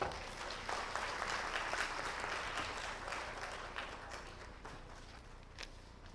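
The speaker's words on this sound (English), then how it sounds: "So once again, a great round of applause for Dr. Ram Bhuj." Audience applause at the opening ceremony of a conference, ICSE 2023, a sustained dense round of clapping from a large crowd that holds steady throughout and eases off slightly toward the end.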